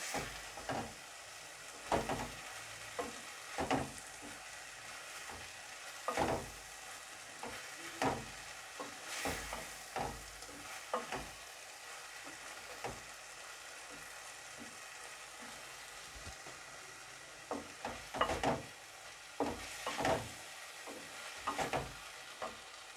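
Chicken filling with capsicum stirred and fried in a pan, a quiet background sizzle broken by repeated scraping strokes of a spoon, some in quick clusters and some spaced apart, with no talking.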